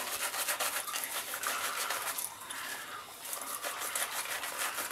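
A brush scrubs shaving cream onto a face with a constant close, bristly rubbing and swishing that runs without a break.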